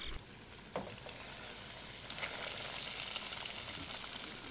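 Country fried steak sizzles steadily in a skillet, a soft continuous crackle and hiss that grows slightly louder over the few seconds, with a couple of faint clicks and no talking.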